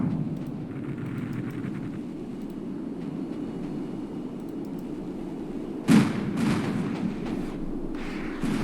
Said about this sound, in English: Oh, the artillery is getting them.